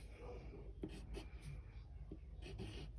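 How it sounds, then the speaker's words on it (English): A pen writes a number on paper during a maths lesson on inequalities, giving soft close scratching strokes in short bursts, quiet and alone with no talk over it. "I am going to go ahead and write that."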